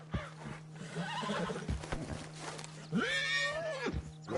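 A horse in Red Dead Redemption whinnies loudly near the end after a stretch of hooves and low rumbling, with a steady background hum running throughout.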